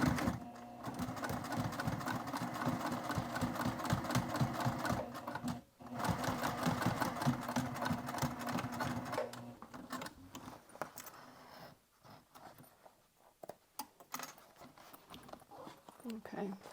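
A sewing machine topstitches a crossbody bag with a rapid, rhythmic needle clatter, pausing briefly and then running on before slowing into scattered handling noises as a voice talks over the end.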